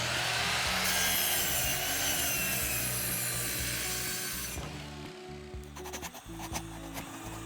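Wooden boards sawn into sections for an archery backstop frame, a steady close rasping of strokes that stops partway, followed by lighter scraping and rubbing sounds.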